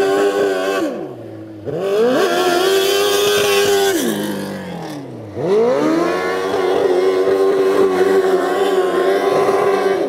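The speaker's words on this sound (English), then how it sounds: "He's cranking it up at IMS right up here on the rev limiter." A race car engine at the IMS winter series race revs hard against its rev limiter. It is loud and close, with two dips where the revs drop and then climb back to a sustained buzzing wail.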